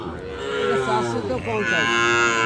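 A young heifer moos loudly and close by at a rural cattle market, one long drawn-out call that wavers in pitch and fills the whole moment.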